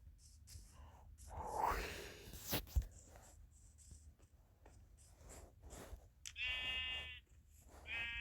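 Sheep bleating in a survival video game, a few short bleats among quiet clicks and a sharp thud, with whispery game sounds and no clear speech.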